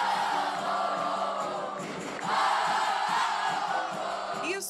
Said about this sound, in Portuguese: Os gritos vindos da arquibancada estavam diferentes no último domingo no Couto